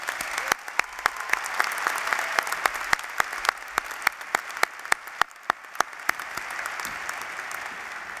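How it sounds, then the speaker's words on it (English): Dense applause from a large arena audience at a Georgia Tech Ph.D. and master's commencement ceremony in 2014, steady clapping with a few sharp, close claps standing out, lasting throughout. "asking for another round of applause for all of those wonderful people"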